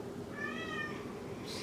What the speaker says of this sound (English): we can hear a cat in the background